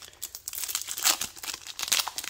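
A Yu-Gi-Oh Starlight Set: Cyberstorm Access card pack wrapper is torn and crumpled open up close, a busy run of crisp, irregular plastic crinkles and crackles.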